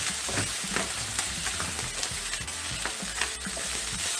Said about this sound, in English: Now put your carrots and your spring onions in your stir fry.